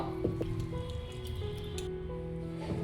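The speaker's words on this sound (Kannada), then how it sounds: "ನೀರನ್ನು ಹಾಕಿ ಚೆನ್ನಾಗಿ ಒಂದೆರಡು ಸರಿ ವಾಶ್ ಮಾಡ್ಕೊಂಡು ಬರಬೇಕು" Toor dal and moong dal being washed in water in a bowl, continuous squishing and sloshing with small drips and splashes, close and steady throughout.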